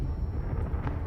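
The Confringo explosive spell from Hogwarts Legacy goes off as a dense, booming blast with a heavy low rumble that rolls on without pause through the whole short moment.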